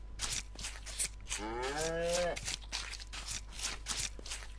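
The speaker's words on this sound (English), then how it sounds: "Sorry I missed the cow." A cow lows once in the DayZ video game, a single drawn-out moo of about a second, mid-distance, set amid game ambience and rustling movement.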